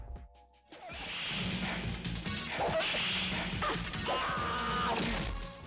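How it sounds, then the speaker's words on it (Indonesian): Whip cracks and lashes land on a man in a dramatic film scene, sharp repeated strikes and swishes over a loud, dense soundtrack of music and effects with no clear speech. "Dan di sini kita akan melihat bagaimana Manju mencambuk Tribupan tanpa ampun."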